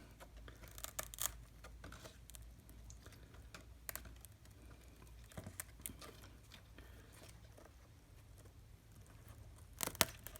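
Scissors snip through a thick Philodendron squamiferum stem in a few faint, crisp cuts and crunches amid quiet rustling, with sharper snips near the start and end.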